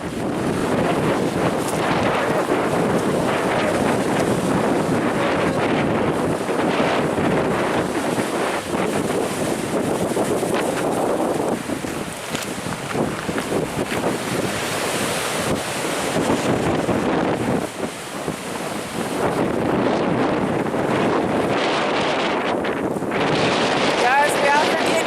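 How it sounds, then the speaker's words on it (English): Strong wind buffets the microphone in a loud, continuous roar while waves churn and wash in the inlet at Anchorage, Alaska, the gusts dipping briefly midway before surging again; no one speaks. "The wind is blowing really hard, and I'm swinging it around so that you can look at how the waves in the inlet are just like going"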